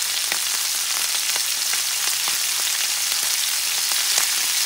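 Kangaroo meat fries in a pan with a loud, steady, close sizzle and faint crackling pops throughout, no voices.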